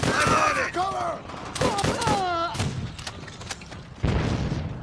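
Gunfire and explosive booms in the World War II shooter game Call of Duty: World at War, dense bursts mixed with loud shouting and voices throughout.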